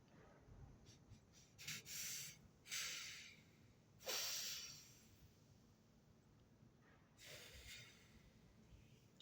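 Slow, deliberate breaths during a breathing exercise, faint and close, with several airy inhales and exhales spaced a second or more apart in near silence.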